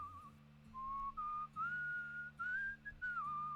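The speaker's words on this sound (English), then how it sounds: "I'm focused on whistling." A clear melodic whistled tune from Where the Water Tastes Like Wine, a series of sustained pitched notes over a quiet background chord, soft and close.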